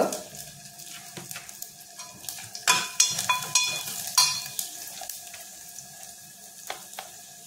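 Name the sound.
asafoetida and spices sizzling as they are sautéed in oil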